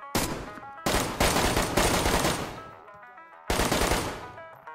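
Gunfire in the video game DayZ: loud bursts of shots, one near 0.2 s, a long sustained volley from about 0.9 to 2.5 s, then another burst near 3.5 s, with no talking.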